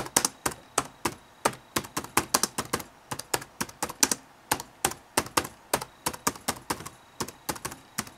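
Someone types a password on a computer keyboard, a fast, uneven run of sharp, close key clicks with brief pauses between bursts.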